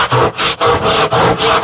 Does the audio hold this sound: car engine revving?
no